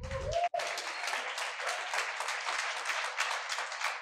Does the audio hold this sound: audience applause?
yes